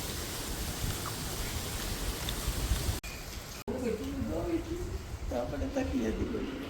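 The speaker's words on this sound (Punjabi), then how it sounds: "ਮੀਂਹ ਆਪਣੇ ਪਈ ਜਾਂਦਾ ਮੀਂਹ ਅਜੇ ਹਟਿਆ ਨਹੀਂ" Rain falls in a steady, moderate hiss outdoors, with a couple of abrupt breaks, and a voice talks over the latter part.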